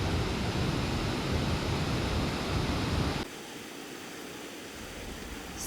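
A waterfall at a fishing spot in Algonquin roars as a steady, dense rush of water, loud for a few seconds, then abruptly softer but still continuous.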